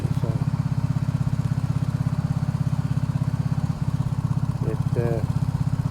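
A Case 224 garden tractor engine running a snowthrower at about 3,000 RPM, a loud, steady, rapidly pulsing single-cylinder drone with a brief dip partway through.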